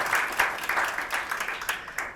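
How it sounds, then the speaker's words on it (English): Audience applause at a FinTech career festival panel, a short steady burst of many hands clapping at moderate volume with no voices over it. "another round of applause"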